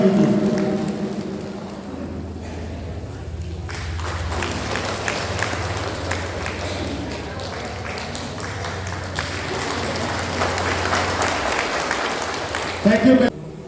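Audience applause welcoming a speaker at a National Hawkers Federation foundation day event in Pasighat, a steady, broad wash of clapping from a crowd lasting most of the span, with talk and a low hum underneath.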